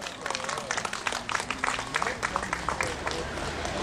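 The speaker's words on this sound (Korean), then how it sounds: "박수를 모셔보겠습니다" Scattered clapping from a crowd at an outdoor protest rally of displaced shopping-mall tenants, welcoming a Progressive Party speaker; moderately close, uneven claps mixed with murmuring voices and crowd noise.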